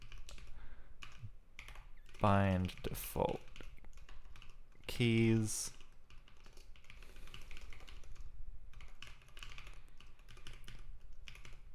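Quick, steady keystrokes on a computer keyboard while coding a Rust and Bevy game, clicking close and continuously through the clip, with someone speaking briefly in two short bursts over the typing.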